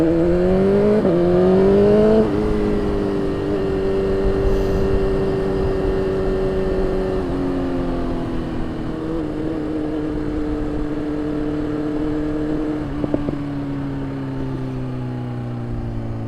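A BMW S1000RR motorcycle engine runs steadily and loudly nearby, its pitch rising through early gear changes and then settling into a sustained cruising drone with a short blip near the end.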